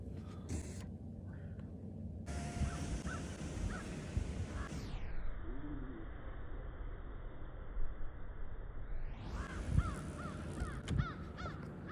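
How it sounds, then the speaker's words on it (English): Crows cawing repeatedly as they mob an eagle near the Buffalo River, calls scattered across the clip at moderate distance over steady outdoor noise and a broadband hiss. "is it fighting with those crows?"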